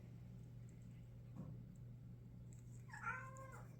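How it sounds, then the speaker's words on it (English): A house cat gives a short, faint meow near the end, over a steady low hum in a quiet indoor craft space. "Can you hear my kitty?"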